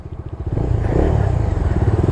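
A new Bajaj Dominar 250 motorcycle's 250cc engine idles and runs close by with a steady, rapid pulsing putter that grows slightly stronger after a moment.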